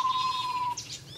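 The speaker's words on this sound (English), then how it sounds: "Goldfinch." Goldfinch calling outdoors: a thin, steady high whistle lasting most of a second, with a brief higher chirp near the end, alone and fairly close.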